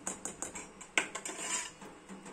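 A spoon stirring custard apple pulp into cold milk in a metal pot, with rhythmic scraping and light clinking strokes repeating close up.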